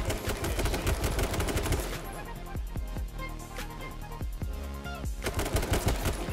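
Rapid bursts of gunfire from the H1Z1 King of the Kill video game, dense automatic-style shots crackling loudly and continuously, with a short lull of sparser shots in the middle.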